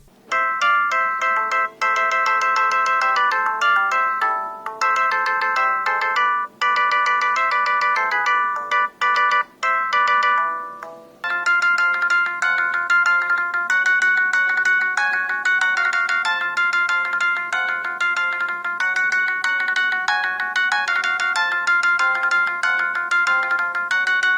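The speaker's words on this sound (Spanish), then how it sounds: "unos tonos del móvil" A Sony Ericsson W44S mobile phone plays a run of polyphonic ringtones, loud bright melodic synth tones that switch tune partway through, with no talking.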